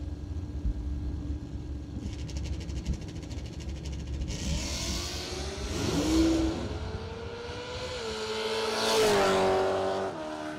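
At a drag race, a Camaro Roadster and an 87 Corvette rev hard, then launch with rising engine howls and tire squeal, with two loud accelerating surges that sweep upward in pitch as the cars pull away.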